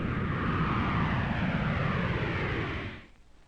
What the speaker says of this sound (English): A jet aircraft taking off produces around 135 to 150 dB.